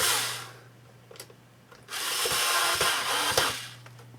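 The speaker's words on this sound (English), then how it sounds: "as I tighten down the screws, the case itself will engage the power button" Screws being tightened into a Synology DS212J NAS case, a soft ratcheting, mechanical whir that starts quiet and grows louder and steadier midway, with a few sharp clicks near the end.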